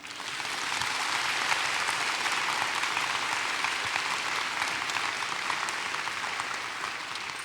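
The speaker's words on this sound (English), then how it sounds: "Let us applaud them now." A large commencement crowd applauds at a college graduation ceremony, broad sustained clapping that swells in after the first second and holds steady, somewhat distant and reverberant.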